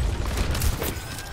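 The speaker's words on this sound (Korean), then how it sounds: "아 정크래 총 폭탄 날아오는 거 봐" Junkrat's bombs going off in the Overwatch video game, a quick volley of loud, close explosive bursts in a dense rattling barrage, with no talking.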